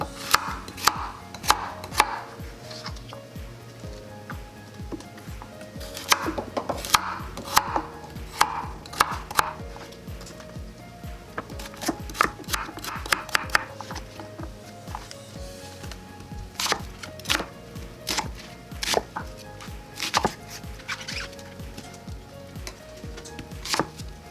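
A knife roughly chops carrots, onions, celery and parsley on a cutting board, quick irregular bursts of sharp taps with short pauses, close and clear, no talking.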